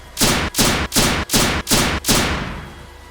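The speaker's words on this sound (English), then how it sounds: "I then heard a flurry of gunshots come towards me." A rapid burst of six sharp gunshots in quick succession, loud and close, each cracking out and ringing before the last one trails off.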